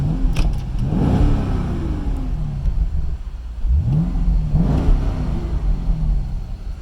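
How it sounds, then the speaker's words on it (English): A 2010 Chevy Camaro 1SS/RS with a near-stock exhaust rumbles while driving, a deep, loud engine note heard from the cabin, swelling twice as the V8 revs up through acceleration. "Let me turn this air down so you can hear the exhaust."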